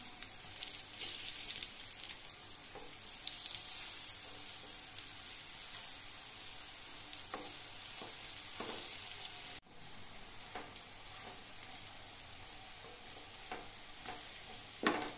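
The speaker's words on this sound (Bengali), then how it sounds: "এবার এই পিঠটাও কিন্তু বেশ ভালো করে ভেজে নিতে হবে" Food fries in hot oil in a pan, a steady loud sizzle throughout with scraping stirs and spatula knocks as pieces are turned, a brief dip midway, and no talking.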